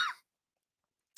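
A single short cough close by, followed by near silence and a faint trailing breath at the very end.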